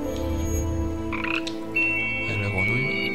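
Frog croaking in the video game Omno, a steady low droning croak that persists throughout alongside sustained tonal game sounds and a few brief chiming effects, with no talk.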